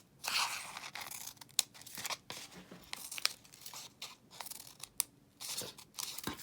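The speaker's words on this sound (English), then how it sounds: "Notice how I cut these triangles out." Scissors snip triangles out of folded papel picado tissue paper, a quick series of crisp crunching cuts with rustling and crinkling of the paper between them, close and clear without talk.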